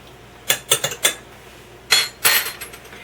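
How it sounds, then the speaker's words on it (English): A metal spoon scrapes and clinks against a bowl while vanilla extract is stirred into chocolate frosting made with powdered sugar and evaporated milk: a quick cluster of close clinks, a pause, then a few more scraping strokes. "I'm going to stir in a teaspoon of vanilla extract"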